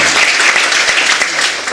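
Church congregation applauding loudly and steadily throughout a Pentecost Sunday service, a dense, even wash of clapping with no pauses.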